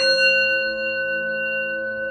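A single bell tone rings out clearly, its bright metallic overtones holding steady and slowly fading across the whole stretch with no other sounds.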